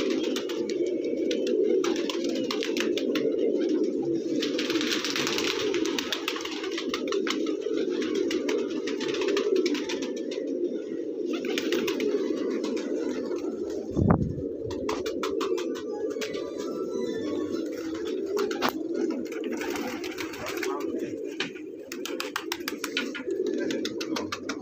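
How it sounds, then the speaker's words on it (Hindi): A large flock of Karbalai and Peshawari pigeons coos steadily, a dense murmuring drone of many birds close by, with a few brief knocks and no speech. "करबलाई कबूतर, पेशावरी कबूतर,"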